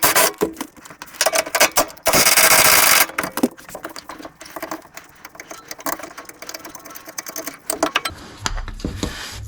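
Bolt on a rear camber arm bracket of a Nissan 370Z being loosened with a rapid mechanical tool, a loud two-second burst of dense rattling amid scattered clanks and metallic clicks, with a low rumble near the end.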